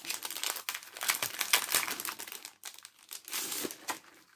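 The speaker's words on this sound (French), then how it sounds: "Alors je vais vous enlever le papier transparent." Thin plastic wrap crinkles and crackles close up in irregular bursts as it is pulled and peeled away, with brief pauses between handling.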